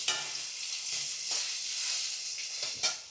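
Eggplant slices frying in a pan give a steady, close hiss of sizzling oil, broken by a few soft scrapes and taps of stirring.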